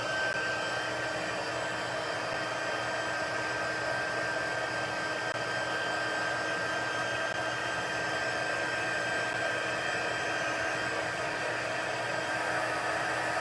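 A heat tool blows steadily and loudly on sticky gold leaf adhesive during gilding. Its hot-air hiss and whir keeps an even level throughout with no talking.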